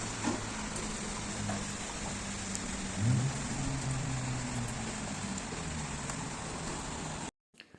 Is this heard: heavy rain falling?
yes